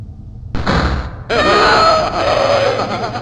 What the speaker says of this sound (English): The door slams shut behind us.